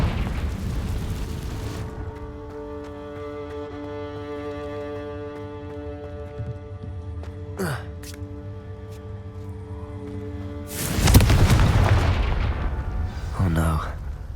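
Confringo blasting spell explosions in Hogwarts Legacy on Xbox Series X: a heavy booming blast at the start, sustained low rumbling and tonal game effects, then a second loud burst with crackling debris near the end.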